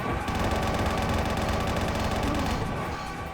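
Sustained rapid gunfire from the Doom II Valiant mod, Map 29 Red Shift, a dense, loud, continuous machine-gun-like barrage that runs for the whole stretch with no talking.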